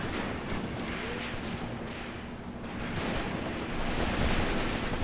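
Pistol shots from a commander's Luger in Graviteam Tactics: Mius Front, a WW2 battle, mixed into dense continuous gunfire and combat noise that grows louder toward the end.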